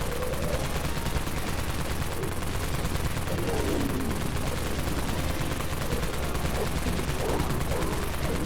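Steady, continuous gunfire from the Dawn Mag weapon in the zombie shooter Dead Frontier, rapid shots blurring into a constant rattling texture at a moderate, even level.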